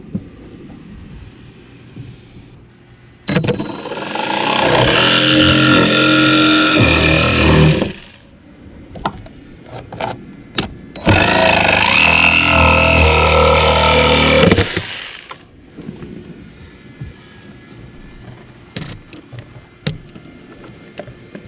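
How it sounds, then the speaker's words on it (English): A saw with a grinding wheel duct-taped on as a depth stop cuts into a boat in two loud, sustained bursts of harsh whining and grinding, separated by quieter handling noises and clunks. "I've duct taped a grinding wheel on so I only go a little ways in"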